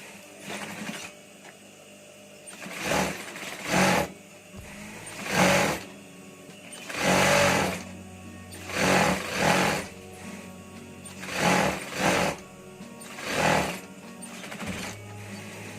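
A sewing machine fitted with a special presser foot stitches the front of a raglan T-shirt in about nine short whirring bursts separated by brief pauses, each rising and stopping quickly.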